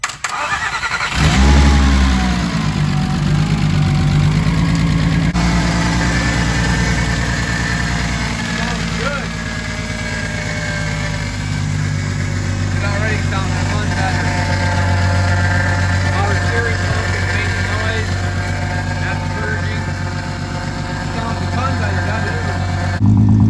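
A freshly rebuilt Volkswagen GTI VR6 engine cranks and catches, then settles into a steady, throaty idle close by for the rest of the clip.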